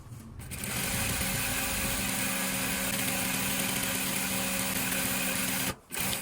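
A sewing machine stitches the middle seam of a garment in one steady, continuous run of mechanical whirring that stops briefly near the end before resuming.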